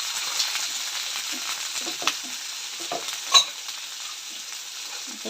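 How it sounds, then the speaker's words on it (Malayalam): Sliced onions frying in a pan for a rose apple and sardine curry, giving a continuous soft sizzle with a few light stirring scrapes and taps, close up and without speech. "സവോള നന്നായിട്ടൊന്ന് ഫ്രൈ ആവട്ടെ."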